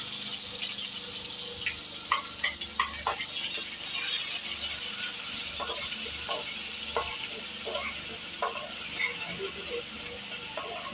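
Ginger garlic paste fries in hot oil in a pan, giving a steady close sizzle with scattered clicks and scrapes as it is stirred. There is no talk.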